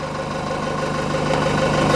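A Cummins 4BT diesel engine idles steadily with a low rhythmic chug and throb, close and fairly loud, growing slightly stronger toward the end.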